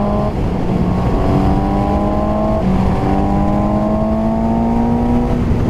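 A 2017 Suzuki GSX-S750 motorcycle engine pulls hard in fourth gear with a throaty, gargling tone that climbs steadily in pitch, heard from the rider's seat under a constant roar of helmet wind noise.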